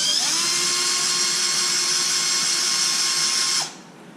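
A power drill fitted with a fresh bit whines loudly at a steady, high pitch for several seconds, then cuts off abruptly, close by.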